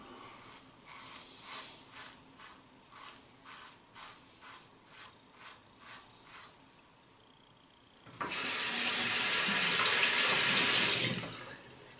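Tap water running into a sink during a traditional wet shave with a Merkur Futur razor, first in about a dozen short rhythmic bursts, then a louder steady gush for about three seconds before stopping, no talking.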